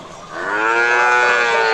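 Cattle at a busy cattle market let out a single long, loud moo close by, swelling and holding steady for nearly two seconds.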